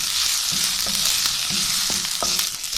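Onions fry gently in a pan while a spoon scrapes and stirs them in repeated strokes over a continuous close sizzle, with no one talking.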